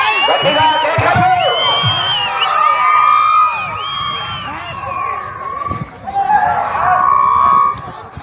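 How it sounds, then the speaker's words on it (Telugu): At a bullock pulling contest, a large crowd of onlookers shouts and whoops continuously. The cries are loud and overlapping, and there is a short lull before the yelling swells again. "గట్టిగా కేకలు."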